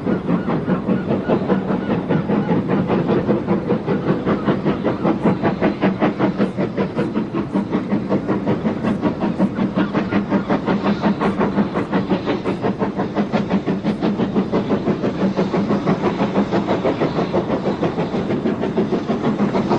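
Small Ivatt steam locomotive on British Rail metals, steady rhythmic chuffing exhaust beats with rail clatter and hiss, close and continuous.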